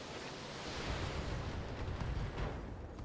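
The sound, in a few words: mech's AC-10 ammo exploding internally, from video game Battletech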